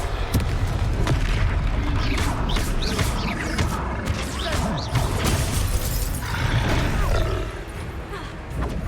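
Confringo blasting spells in Hogwarts Legacy, a dense run of loud booming bursts and shattering crashes over constant battle noise, with several sharp impacts in quick succession.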